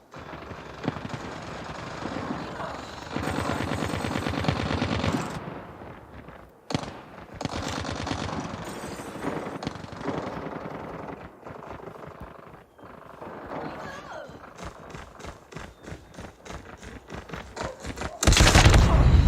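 Gunfire in the mobile shooter game Call of Duty Mobile, dense bursts of rapid shots and explosions rolling across the match, loud and continuous with brief lulls, then a sharp loud blast at the end.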